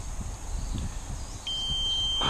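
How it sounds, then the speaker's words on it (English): A small drone flying back through woodland emits a steady high electronic beep tone that starts partway through and holds, over low rustling wind and handling noise. "You can listen to the beep beeps."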